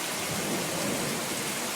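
Rain falls steadily during a storm with lightning and horses nearby, making a dense, even hiss close by with no voices.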